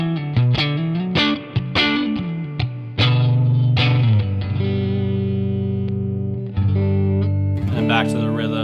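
A Fender Vintera II 70s Jaguar electric guitar plays a distorted lead line, loud and close, with quick picked notes and bends flowing into longer sustained tones, heavily processed through effects.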